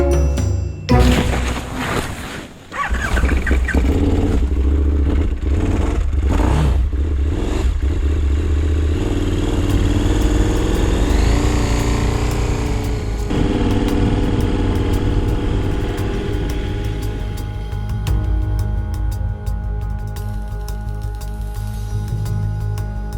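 A motorcycle engine revs up from a few clattering starts into a steady, loud drone, its pitch shifting as the bike rides on the Dalton Highway toward Prudhoe Bay, Alaska.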